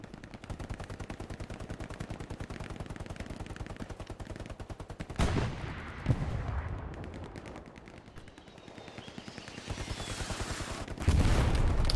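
Heavy rattling machine-gun fire in a World War II shooter game, rapid sustained bursts punctuated by booming impacts, with distant artillery rumble in the battlefield background.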